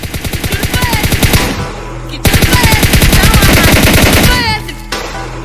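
Loud, rapid automatic gunfire in long bursts with a brief pause, close and dominant, like a shooter game's weapons.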